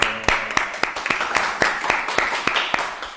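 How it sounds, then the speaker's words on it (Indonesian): A small audience claps in a podcast studio setting, with sharp, irregular hand claps spread across a few seconds, moderately close and fairly sparse rather than a full roaring ovation. "Tepuk tangan dulu."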